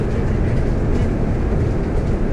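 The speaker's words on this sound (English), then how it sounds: "まもなく発車します。" A JR E531 series Mito Line local train pulls out on a night run from Oyama toward Shimodachi, heard from inside the car as a loud, steady low rumble and roar with no distinct clacks.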